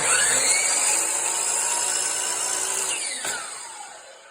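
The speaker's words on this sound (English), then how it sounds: "So right here, I've got the saw at 0. It's going to cut straight down." A power saw set at zero degrees cuts straight down through wooden casing trim, a loud, steady whine close by that drops and winds down at the end of the cut.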